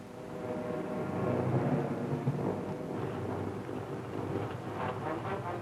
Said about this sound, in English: The heavy storm left a trail of damaged ships.